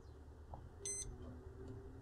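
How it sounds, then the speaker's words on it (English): A multimeter in diode test mode gives a short electronic beep while probing components during repair of a Sony SA-WP780 active subwoofer, a single brief tone standing out over a quiet workbench background. "You hear a single beep."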